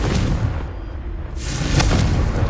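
A Confringo fire spell detonates in Hogwarts Legacy on PS5, a broad booming blast that swells near the end of a dense, rumbling game soundscape, loud and close with no voices.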